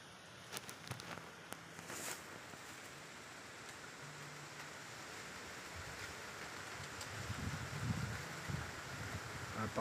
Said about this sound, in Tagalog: Napakalakas guys ng hangin.